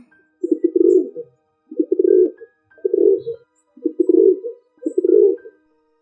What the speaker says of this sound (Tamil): புறா குணுகும் புறா குணுகும்